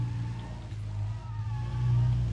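A Volkswagen Beetle in the racing game Driver San Francisco drones with a steady mid-pitched engine note that swells louder toward the end as the car revs through a drift.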